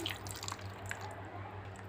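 Spiced meat cooking water poured over vegetables in a tagine, heard as a soft, steady trickle with scattered drips, fairly faint and close by, with no talking.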